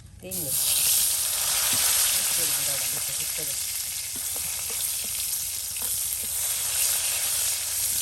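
Chicken skin sizzles steadily in hot oil with cumin and spices, a loud continuous frying hiss that barely changes throughout, while a voice speaks briefly over it near the start.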